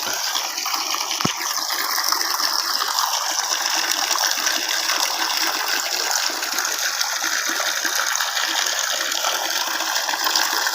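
Steady rushing water pours continuously into a concrete fish pond, a broad constant gush with no talking.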